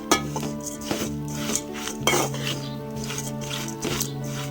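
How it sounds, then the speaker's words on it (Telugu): Flattened rice (atukulu) being stirred in a metal pan, with steady scraping and light clinks of a spoon against the pan in close, irregular strokes, under a constant low hum. "అటుకులు మాడకుండా ఇట్లా తిప్పుకుంటూనే ఉండాలండి, ఉత్తరనే మాడిపోతాయి."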